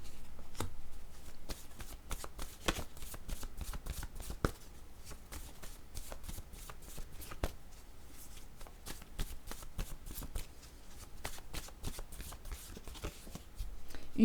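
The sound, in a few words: shuffling oracle word cards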